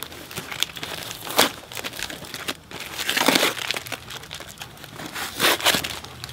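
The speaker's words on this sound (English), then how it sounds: "Lori, you wrapped this very well" Gift wrapping paper crinkles and tears in repeated bursts, loud and close, with short pauses between handfuls of crumpling.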